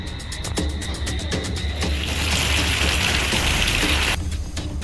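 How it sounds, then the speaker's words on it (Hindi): Heavy, steady rain pours down in Jhansi during continuous monsoon downpours, a dense, loud hiss with patter close by and no voices. "झांसी में लगातार भारी बारिश हो रही है।"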